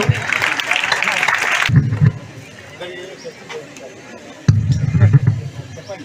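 Audience applause for the collector at a public gathering, a short burst of clapping at the start, then the crowd quiets before a second round of clapping rises near the end. People speak over the quieter middle stretch.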